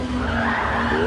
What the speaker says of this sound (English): The car just wants to slide, doesn't it? Just wants to skid.